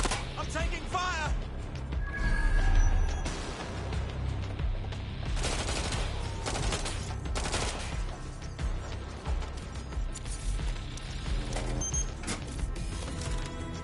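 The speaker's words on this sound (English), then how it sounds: "I'm taking fire!" Gunfire in the video game Watch Dogs Legion comes in rapid machine-gun bursts and scattered shots, mixed with mechanical clatter and crashes, as voices shout over the combat.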